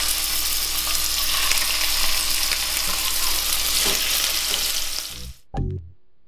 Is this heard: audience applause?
no